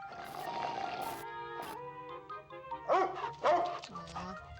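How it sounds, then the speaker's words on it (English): A puppy in the video game Amanda the Adventurer 3 gives a few short, high yips and barks near the end, following a tonal game jingle. "Look at this sweet puppy!"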